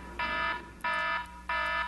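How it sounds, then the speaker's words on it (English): Electronic alarm going off in three sustained buzzing blasts, each about a third of a second long with short gaps, loud and harsh over a faint background hum, no talking. "The alarm continues to sound."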